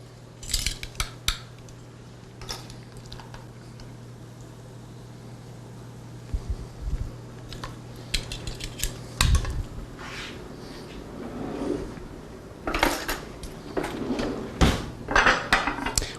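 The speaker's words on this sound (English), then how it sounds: "We have a nice clean board, so I'm going to use that to cut the lamb on." A serrated knife works on a rack of lamb on a clean cutting board, with scattered clinks and taps early on and then denser bursts of sawing and scraping.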